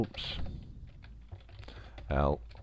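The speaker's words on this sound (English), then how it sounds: "If we type Howard L" Computer keyboard typing for a web search, quick soft key taps through the clip with a brief voiced sound near the end.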